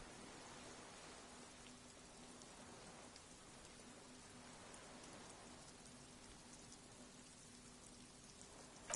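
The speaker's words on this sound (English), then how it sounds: "It's late and it's raining." Steady rain in the video game Disco Elysium, late at night by cold water, a soft continuous hiss of falling drops at an even, moderate level with no voices.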